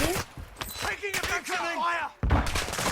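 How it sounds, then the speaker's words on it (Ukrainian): Bursts of Call of Duty Warzone DMZ gunfire crack and thud amid rising, sweeping electronic tones, ending in a loud, dense blast. "Ззаду стріляють."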